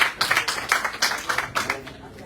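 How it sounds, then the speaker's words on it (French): Scattered clapping from a small audience at a public outreach event in Guadeloupe, welcoming a technician, heard as a few uneven bursts of hands that thin out quickly. "Tonnerre d'applaudissements, on l'encourage."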